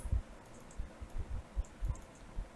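Faint computer mouse clicks, about half a dozen short separate taps spaced irregularly over a quiet background, close by and alone.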